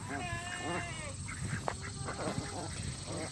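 Ducklings in a late-summer garden give a run of bright, high calls, clustered early and scattered later, close to the recorder and mixed with a soft voice and garden background.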